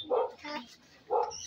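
A dog at an elementary school gives two short, close barks about a second apart, with children and adults chattering faintly around it.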